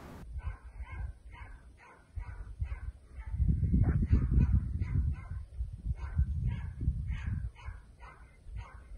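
A puppy yips, barks and whimpers in repeated short bursts during leg bite training, fairly close, over a steady scuffling rumble of play and movement.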